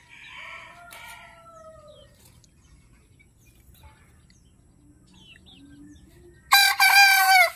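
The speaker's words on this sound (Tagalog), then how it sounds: "Hintayin natin tumilaok." Quiet outdoor ambience with soft bird calls, then a loud rooster crows once near the end, close and clear.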